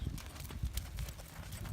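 A horse's hooves clip-clop in an uneven walking rhythm on firm ground during riding instruction, fairly faint and close, with scattered soft knocks and no talking.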